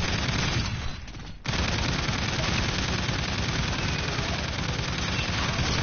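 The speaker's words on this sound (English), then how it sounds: "Look, I place the sentry gun," An automated sentry gun firing at zombies in Infinite Warfare's zombie mode, a loud, dense stream of rapid shots that stops for a moment near the start and then carries on nonstop.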